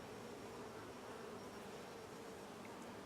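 A hive of honey bees gives off a constant, even buzzing drone, soft and low in level, with no voices over it.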